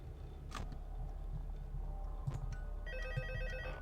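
A phone rings in Five Nights at Freddy's 2, its electronic ringtone trilling in repeated bursts over a steady low game hum, growing more prominent toward the end.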